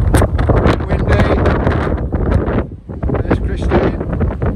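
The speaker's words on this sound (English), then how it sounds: "Oh, it's windy." Strong wind buffets the microphone at Portpatrick harbour on the Rhins of Galloway by the Irish Sea, a loud continuous roaring rumble with gusty surges and a brief lull.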